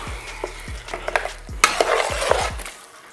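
Plum tomatoes stirred into lamb keema frying over a low flame, a series of thumping spoon strokes and scrapes against the pan over a soft background sizzle.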